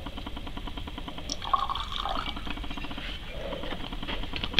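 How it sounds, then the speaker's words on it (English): Nitric acid is poured into sulfuric acid in a lab: a soft, close trickling and dripping of liquid with small irregular patters over a faint background hiss. "Next I'll add the nitric acid."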